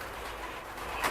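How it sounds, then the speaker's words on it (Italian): Pigeons inside a bell tower give a soft, low cooing, faint against a hollow airy background, with a brief louder burst at the end. "Ma sui piccioni, non i colombi, piccioni."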